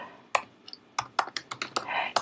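Fingers tap a computer keyboard while a name is typed into a Microsoft Word cover page, giving a quick irregular run of crisp, close key clicks with short gaps between bursts.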